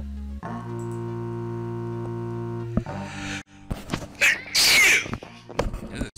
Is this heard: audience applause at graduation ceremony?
no